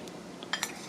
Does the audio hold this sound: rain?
no